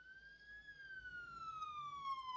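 An emergency vehicle siren wails in the video game Emergency 4, a single clean rising-and-falling tone heard alone at moderate distance, fairly faint.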